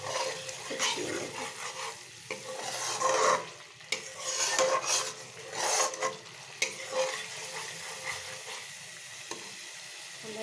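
A spice paste for an aar fish dish sizzles in a pan as a spoon stirs and scrapes it in repeated uneven strokes, close and clear, with no voices.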